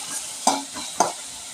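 Onions fry gently in oil over low heat for paneer butter masala, a soft sizzle under two sharp clacks of a spoon stirring against the pan.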